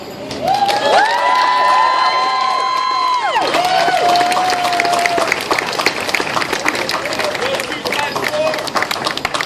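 An audience at an Arthritis Foundation honoree event claps and cheers loudly and steadily, with some whistles and shouts mixed in.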